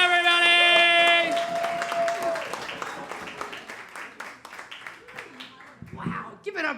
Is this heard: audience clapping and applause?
yes